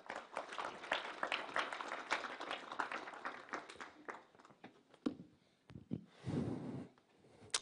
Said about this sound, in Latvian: Aicinu ar aplausiem.